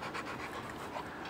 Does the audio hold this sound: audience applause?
no